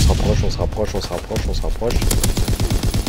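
Lewis machine gun in Call of Duty WW2 multiplayer firing in rapid sustained bursts, loud and close, with a steady mechanical rhythm under dense battle noise and a talking voice.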